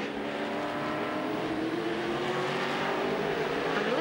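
Race car engines in a Speed Car Series race, a continuous roar with rising engine pitch as cars accelerate, heard at a moderate distance and without clear speech.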